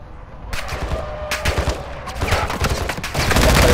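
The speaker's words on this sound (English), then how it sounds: "You hear the gunfire?" Bursts of rapid gunfire crackle through a busy Call of Duty: Modern Warfare II game soundscape, volleys coming in clusters and growing louder and denser toward the end.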